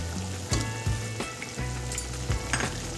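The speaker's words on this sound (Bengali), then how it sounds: "এর মধ্যেই আমি ভাজা চিংড়ি মাছগুলো ছেড়ে দিচ্ছি" Fried prawns are added to masala in a pan, which sizzles and spits steadily with a few sharper bursts and stirring scrapes. The sound is close and no one speaks.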